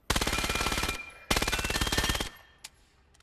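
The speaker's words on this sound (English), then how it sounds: "It's pretty high rate of fire because it's an SMG." A rapid stream of close, loud SMG fire from an APC-9 Pro in the VR shooter Vail VR, two long bursts separated by a short pause, then a single faint click.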